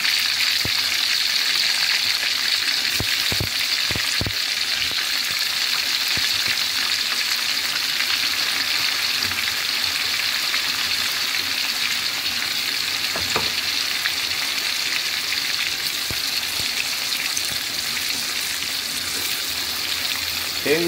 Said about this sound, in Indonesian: Oke, ini kita goreng sampai nanti dia warnanya kuning kecoklatan ya